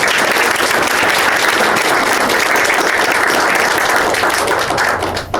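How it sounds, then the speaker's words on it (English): A seated audience at a leadership network meeting gives a speaker a round of applause, loud, dense and steady clapping that holds throughout and drops away only at the very end. "Let's give Shelley a round of applause."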